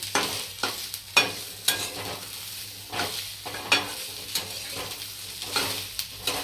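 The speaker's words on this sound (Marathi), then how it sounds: "लगेच आपण लसूणसुद्धा टाकूया त्यात ते सुद्धा भाजून घेऊया" A generous amount of garlic roasts in a pan for a spicy Maharashtrian chicken, crackling steadily as a utensil scrapes and stirs it in repeated, fairly regular strokes close by.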